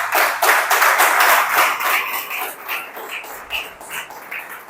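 Church congregation claps in worship, loud rapid clapping from many hands sustained throughout and tapering slightly toward the end.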